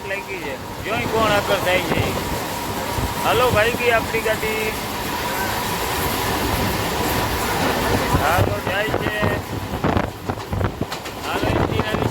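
Rumbling train noise with rail clatter and wind rush as the train races alongside another train on the next track, while voices talk over it in the foreground.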